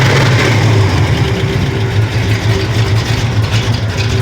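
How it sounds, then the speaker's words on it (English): A Pontiac car idles through a loud Pipes Violator exhaust, giving a deep, continuous rumble with a throbbing low-end pulse, close and steady with no voices over it. "It's got a pipes violator exhaust system on it, so it's pretty loud"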